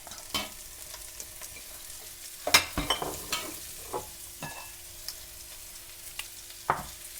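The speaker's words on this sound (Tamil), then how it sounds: "இப்போ இந்த வெங்காயத்தை போடுவோம் இதோட" Onions fry in oil for Indian bonda with a light sizzle underneath. A spoon scrapes and stirs the pan up close in irregular knocks and clatters.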